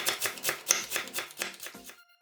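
A knife shreds cabbage into thin 0.3 cm strips on a board, a quick steady run of about ten crisp chopping strokes close by, then stopping.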